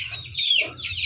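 A hen clucks close by on a farm, a short rising squawk over a low, steady background hum.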